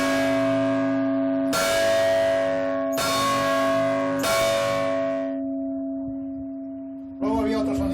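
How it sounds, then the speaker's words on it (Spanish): A church bell in Arrecife, once rung to warn of fire, strikes four times, three in steady succession, then a later one, each stroke ringing out loud and bright before decaying slowly. "Cuando se iba a tocar a fuego, había un incendio en Arrecife, se tocaba esta campana."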